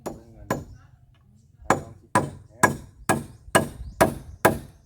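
Eight sharp hammer blows drive nails into a wooden roof frame, one isolated strike and then a quick even series of close, loud whacks, each with a short ringing tail.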